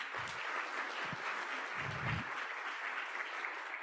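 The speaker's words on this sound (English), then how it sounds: "Maybe another round of applause for Dr. Smart." Audience applause after a keynote at a 2022 summit, steady broadband clapping from a crowd that continues evenly for about four seconds with no talking over it.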